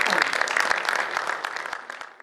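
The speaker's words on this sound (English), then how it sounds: "please give a round of applause for Mr. Mohit Bhatia" Audience applause at a corporate event, a burst of many hands clapping with sharp distinct claps that gradually thins and fades toward the end.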